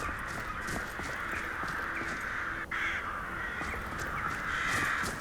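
Video game crows cawing repeatedly over a constant noisy ambient bed, a flock of overlapping harsh calls continuing throughout at moderate volume, without talking.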